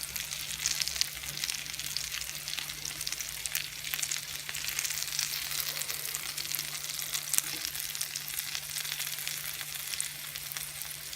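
Fritters frying in a pan of oil, giving a steady close crackling sizzle with faint pops and a low constant hum under it, no voices.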